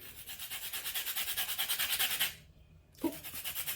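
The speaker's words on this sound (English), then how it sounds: "We are going to get some zest off this lemon." A lemon being zested gives fast, rhythmic rasping strokes close up, stopping briefly before one soft knock and more scraping.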